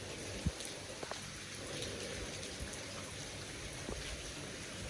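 Steady rain falling outdoors, a constant hiss with scattered drops landing nearby, no voices.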